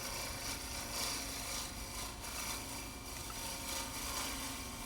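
A bowl gouge working burl wood on a lathe while turning a conductor's baton gives a steady, continuous rasping scrape with no pauses, close and fairly loud, with no talking.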